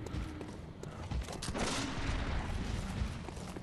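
Gunfire from a firearm in the Bloodborne video game, several sharp shots scattered over a dense, noisy game mix at moderate level, with no voice over them.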